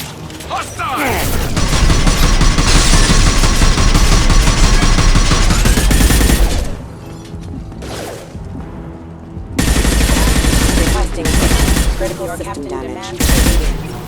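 Mechs firing guns in Mass Effect 2 in long sustained bursts of loud automatic fire, broken by brief pauses and mechanical clanks, with heavy impacts and dialogue voices in between.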